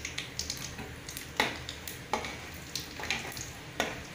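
Urad dal and chana dal frying in hot oil with popped mustard seeds for rava upma, a steady close sizzle broken by frequent light scrapes and clinks of a spoon against the pan.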